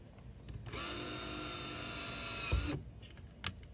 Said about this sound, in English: Okay, so it's 1 hole drilled.